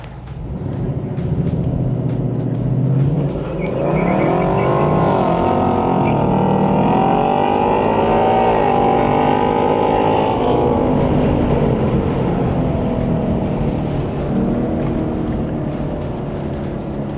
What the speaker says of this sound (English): Let's see how the Dark Horse goes up against the Mach 1.